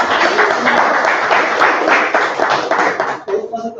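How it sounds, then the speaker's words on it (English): Applause from a Toastmasters club meeting audience, a steady wash of clapping that holds for about three seconds before thinning into scattered claps and faint voices. "Round of applause"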